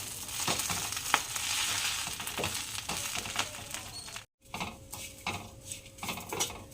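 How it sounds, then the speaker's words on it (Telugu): Karam podi spice powder is dry-roasted in a pan and stirred every so often. A utensil scrapes and clinks against the metal over a soft, continuous sizzle, with a brief pause partway through. "ఇలా మధ్య మధ్యలో కలుపుతూ మనం బాగా వేపుకోవాలి."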